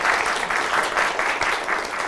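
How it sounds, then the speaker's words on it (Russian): A short burst of dense audience applause at a journalism master class, loud and steady from start to end with no voices over it. "Под ваши бурные аплодисменты."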